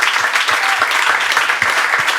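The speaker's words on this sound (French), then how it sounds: "on peut l'applaudir parce que cette place est très difficile." Loud, close applause from a live podcast audience, a dense continuous burst of clapping with some heavier thumps underneath, lasting a couple of seconds.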